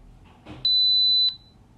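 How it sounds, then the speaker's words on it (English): A single steady high-pitched electronic beep from a Z-Wave smart home hub entering pairing mode, lasting about half a second, clear and close, over quiet room noise. "we'll hear a beep when it goes into the mode"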